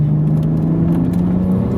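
Turbocharged BMW 135i E82 coupe, tuned to 486bhp, pulling in third gear around 3,000 to 4,000 RPM, with a steady loud engine drone and boost whir heard from inside the car.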